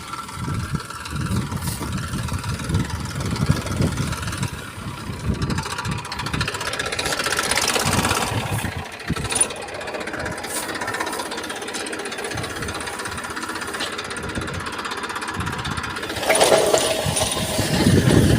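A tractor engine runs nearby outdoors, a loud, continuous rough chugging drone with knocking pulses that holds steady throughout, with no voices.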